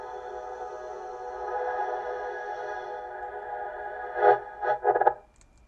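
A music track in production with a distortion effect being raised, a sustained buzzy, harmonically dense tone that breaks into a few choppy stuttering bursts before cutting out, with no talking.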